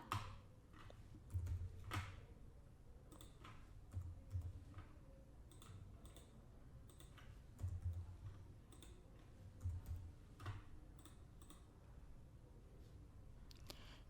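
Irregular typing on a computer keyboard while entering remarks into an employee records system, faint and close, in short bursts of clicking keystrokes separated by quiet pauses.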